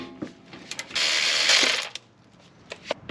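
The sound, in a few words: ratchet removing 14 mm Honda brake caliper bolt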